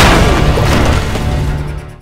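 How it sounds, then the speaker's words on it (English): A grenade blows up on a ship in the film Avatar 2: one heavy, close boom with a crashing burst that slowly fades over about two seconds. "he also used a grenade on the ship of Miles to weaken his strength"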